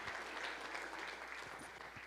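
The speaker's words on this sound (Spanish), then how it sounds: "denle un aplauso al Señor" A church congregation applauds, a dense, steady patter of many hands clapping that fills the room at moderate volume for a couple of seconds.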